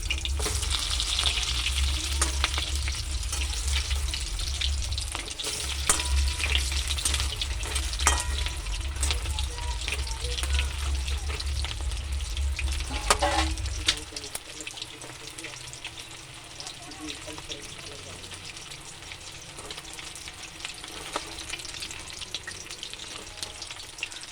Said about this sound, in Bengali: চিকেনটা হালকা করে ভাজা হয়ে যাওয়ার পর এক পিঠ আর এক পিঠ উল্টে দিতে হবে